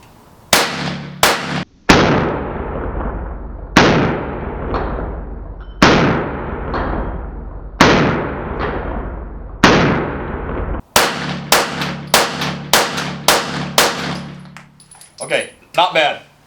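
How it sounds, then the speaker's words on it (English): A Glock 48 pistol fires 10 rounds outdoors, loud close gunshots with long echoing tails, first a few spaced shots and then a faster string near the end. "10 rounds through a Glock 48."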